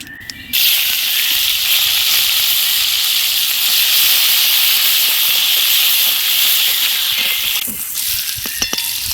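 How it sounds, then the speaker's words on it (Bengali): Chopped onion dropped into hot oil already tempered with cumin and dried red chilli, giving a sudden loud, sustained sizzle that holds steady before easing slightly near the end, with a few clinks at the close. "এবার ওর মধ্যে দিয়ে দেবো পেঁয়াজ কুচি"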